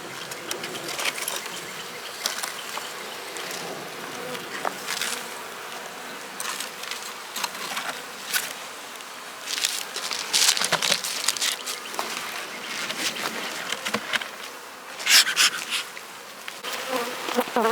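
Honey bees droning steadily around an open hive colony during beekeeping work, a close, continuous buzz with small rises and falls and a few louder passes near the end.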